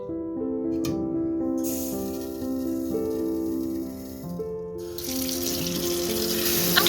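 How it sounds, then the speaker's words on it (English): Dried quinoa is rinsed under a running kitchen tap at the sink, a steady close hiss and splash of water that swells louder partway through and continues without talk. "I like to rinse the dried quinoa for about a minute."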